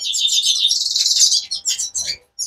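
A goldfinch chirps in quick, bright bursts of high notes, close and fairly loud, as it comes in to feed from a small pot near a hand, with a few short pauses near the end.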